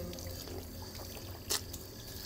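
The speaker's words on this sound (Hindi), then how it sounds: "अब 3 बार हमने कुली करनी है।" Faint trickle and splash of water while rinsing the mouth during Islamic wudu ablution, a quiet, low-level pour with one brief splashy burst partway through.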